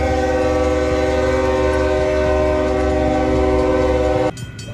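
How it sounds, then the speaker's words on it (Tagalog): A long train rolls past a stoplight crossing on a Canadian street, its horn sounding as a sustained, loud, steady chord held for several seconds before cutting off sharply, with the rumble of the cars underneath and no talk. "Nandito tayo sa stoplight. At saktong may train."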